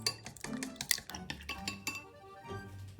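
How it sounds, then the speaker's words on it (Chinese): Eggs beaten in a bowl for a blue mussel and egg stir-fry, giving quick, close clinks and clatters of utensil against dish in an uneven rhythm, with no talking. "打散鸡蛋"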